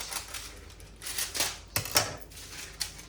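Scissors snip through sourdough loaf dough or parchment, a few quick crisp cuts in a kitchen, close and moderately loud with faint clattering between them.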